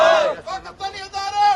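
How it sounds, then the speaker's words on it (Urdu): Rally-goers at a Pakistani street gathering in New York shout slogans together, a loud, ragged wave of raised voices that surges, dips briefly and swells again. "پاکستان زندہ باد اور پاکستان کے ادارے زندہ باد کے نعرے لگاتے رہے"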